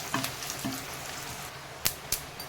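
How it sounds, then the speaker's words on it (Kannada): Hot tempering tipped onto tomato chutney gives a brief burst of sizzle with soft crackles and a couple of sharp spattering pops, close and short. "ಒಗ್ಗರಣೆ ಈಗ ಚಟ್ನಿ ಮೇಲೆ ಹಾಕಿ ನೋಡೋಣ"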